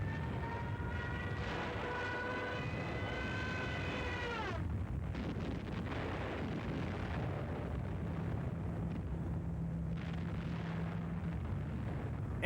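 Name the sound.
anti-aircraft fire and explosions in WWII newsreel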